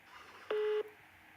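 A single steady electronic telephone tone sounds for about a third of a second during a played-back phone call, clean and fairly loud against a quiet hiss.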